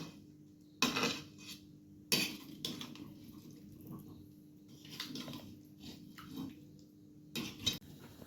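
Dum aloo stirred in a pot with a spoon, giving several sharp metallic scrapes and clanks against the sides, spaced irregularly between softer shuffling sounds of potatoes and gravy, close by.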